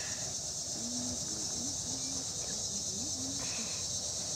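A mosquito's thin whine wavers in short, broken bursts during an indoor live cooking broadcast of palm oil stew, sitting close to the mic over a steady background hiss, with no talking.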